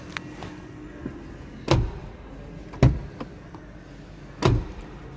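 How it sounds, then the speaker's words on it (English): A 2023 Proton Exora's door is handled and shut, giving three fairly solid, dull thumps spaced about a second apart, close by over a quiet background with faint clicks. "So now let's close the door."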